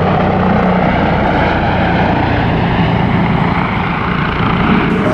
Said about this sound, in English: This multi-role attack helicopter has been developed to cope with the most demanding environment